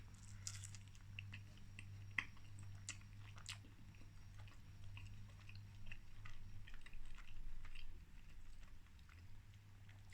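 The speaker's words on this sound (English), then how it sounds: "So I got a big chunk of it in that bite" Close, wet chewing of a big, tough bite of a Greggs steak bake with chewy steak and gravy, steady mastication with small crunchy clicks over a low hum, no talking.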